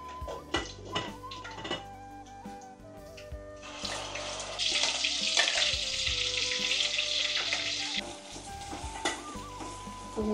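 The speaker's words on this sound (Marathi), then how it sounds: "मोहरी तडतडली आहे" Mustard seeds and cumin sizzle in hot oil in a home kitchen, with a steady crackling hiss that swells in the middle, broken by sharp pops, clinks of utensils and some running water.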